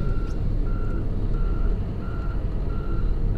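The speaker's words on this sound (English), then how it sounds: "both trucks are backing up towards me at the side." Two trucks back up at a work site behind buildings alongside a John Deere loader, their reversing alarms sounding a steady, evenly spaced beep-beep over loud low engine rumble, close by, with no talking.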